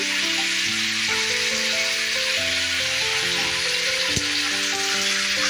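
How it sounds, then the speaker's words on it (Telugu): Peanuts and other chutney ingredients frying in hot oil for gongura chutney, a loud, unbroken close-up sizzle with faint stirring, while background music plays steadily throughout. "ఇది అందులోకి వేసి ఆయిల్లోనే ఫ్రై చేద్దాం పల్లీలు వేగేలోపు ఇవి కూడా వేగిపోతాయి"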